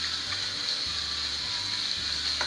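Water pours and sloshes over pumpkin pieces being rinsed to remove lime, a continuous hissing wash with a low rhythmic churning underneath and no talk.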